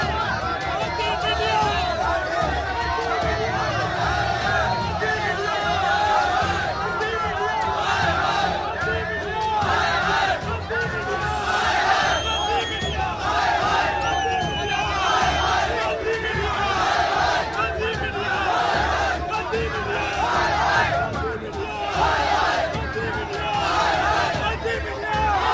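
A large crowd of protesting farmers, including women, shouts and chants continuously at an outdoor rally, a loud dense roar of many voices with rising surges and no pauses.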